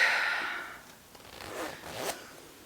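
Zipper on handmade Jackie trousers pulled in one quick, close zip, followed by faint rustling and handling of the fabric.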